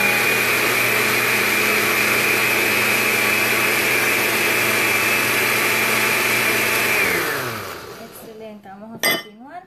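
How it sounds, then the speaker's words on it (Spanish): A kitchen blender whirs steadily and loudly while blending oats, running continuously for several seconds before winding down and stopping, followed by a couple of brief knocks. "La voy a llevar a la licuadora poco a poco, no la voy a de una sola para poder batirla"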